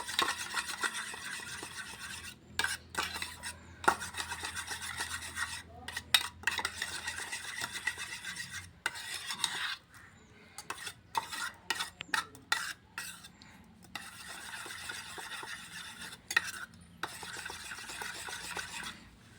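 Homemade skin moisturizer cream being stirred in a bowl, with close, repeated scraping and rubbing strokes broken by short pauses, and no voices.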